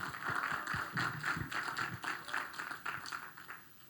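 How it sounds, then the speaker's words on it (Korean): A church youth group at a winter retreat claps together, a run of quick, fairly even hand claps at moderate volume that fades toward the end, with no talking over it. "박수 한번 쳐주세요."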